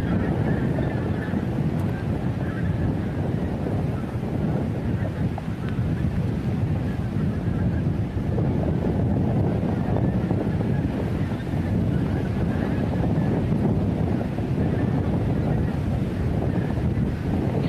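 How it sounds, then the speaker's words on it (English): Strong wind blows across an outdoor microphone at night at Montrose Basin Wildlife Reserve, making a loud, continuous buffeting rumble that barely lets up for the whole stretch. "You'll notice it's quite windy tonight. You can hear it picking up on the audio"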